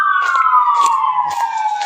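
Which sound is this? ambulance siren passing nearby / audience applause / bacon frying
ambulance siren passing nearby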